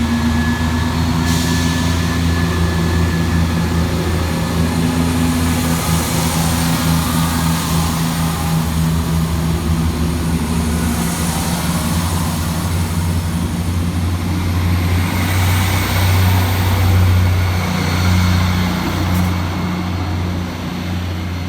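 Scotrail Class 174 and Class 158 diesel multiple units pull out of Inverkeithing station with a deep, sustained engine drone and rumble that holds steady and slowly builds as the train moves off.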